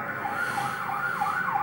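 A wailing ambulance siren in the PS2 game Urban Chaos, rising and falling continuously over a low engine hum, steady and fairly close.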